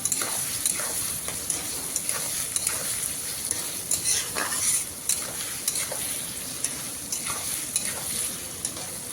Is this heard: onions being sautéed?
yes